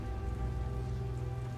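Steady soft rain patters on surfaces at night outside a guarded compound in the video game The Order: 1886, a quiet, even hiss with no voices.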